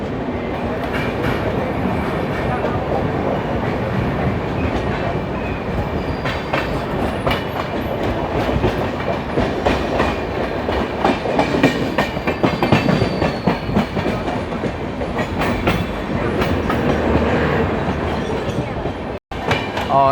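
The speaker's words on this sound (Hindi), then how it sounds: "एक हावड़ा मुंबई अभी अराइवल ले रही है दादर में" Howrah–Mumbai express train moving at Dadar station in Mumbai, a loud continuous rumble with steady clickety-clack of wheels over rail joints, heard from close by for the whole stretch.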